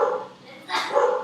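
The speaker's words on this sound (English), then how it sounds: "the dog's also excited about it. Can you hear my dog?" A pet dog barks twice in a home during an excited moment, loud and fairly close, the barks separated by a short pause with no voice over them.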